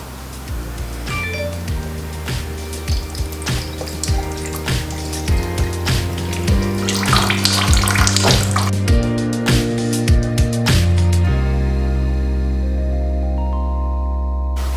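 A quart of coolant pours into a car's radiator during a coolant flush, a continuous gurgling, glugging stream that rises in pitch as it fills, close and steady, then settles into a lower flow.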